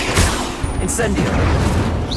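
A fiery spell bursts with a roaring whoosh and crackling blasts, loud and dense across two seconds of spellcasting combat in Hogwarts Legacy, with a voice shouting over it.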